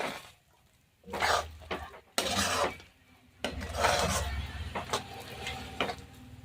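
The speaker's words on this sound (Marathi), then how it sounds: "आता थोडीशी टाकायची आणि आता छान असं मिक्स करून घ्यायचं आहे" A spoon stirs cardamom powder into raw mango muramba in a metal pot, making irregular bursts of scraping and clinking separated by brief quiet gaps, close and moderately loud.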